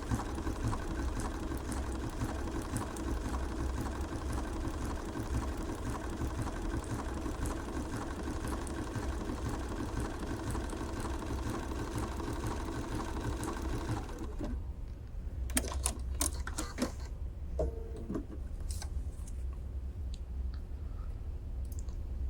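Bernina sewing machine stitching steadily, a dense continuous mechanical whir for about fourteen seconds, then stopping abruptly, followed by a few scattered clicks and small handling sounds.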